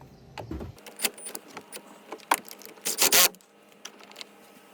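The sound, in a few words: re-securing negative battery cable with 10 mm wrench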